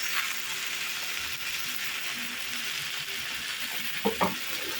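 Cabbage and eggplant sizzle steadily in a hot oiled pan, a soft continuous crackle with a couple of light clinks near the end.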